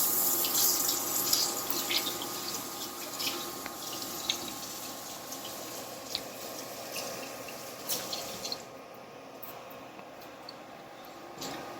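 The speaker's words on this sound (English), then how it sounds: "I'm going to wash my hands real quick." A tap runs into a sink in a cooking-class kitchen as hands are washed, a steady close hiss of water with small splashes and clatters, then the flow cuts off near the end.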